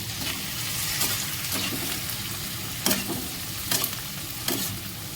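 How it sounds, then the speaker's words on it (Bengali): Chicken 65 with curry leaves fries in a pan, a steady close sizzle broken by a few sharper scraping stirs of a spoon, with no talk over it. "দিয়ে এবার এটা ভালো করে ফ্রাই করব।"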